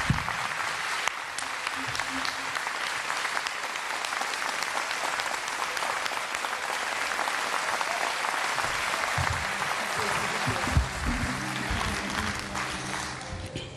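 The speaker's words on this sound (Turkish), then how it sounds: "Onlara çok güçlü alkışlar istiyorum." An audience at a televised Turkish music show applauds at length, dense sustained clapping that stays loud and even, with a brief swell near the end and some background sound under it.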